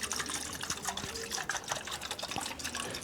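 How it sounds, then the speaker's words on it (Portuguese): Water sloshes and rattles inside a small aluminium shaker, a close run of quick, uneven splashy pulses as it is shaken back and forth. "se eu mexer aqui, vocês vão perceber que aqui tem água"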